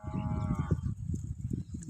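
A buffalo gives a low, drawn-out moo close by, mixed with shuffling and farmyard noise, and a brief tonal call at the start.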